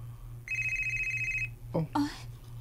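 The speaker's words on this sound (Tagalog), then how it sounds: "Nanawag si Bimbo." A telephone rings with one electronic trill lasting about a second over a low background hum, and then a voice speaks briefly.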